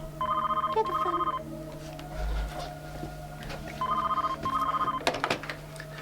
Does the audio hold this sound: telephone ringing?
yes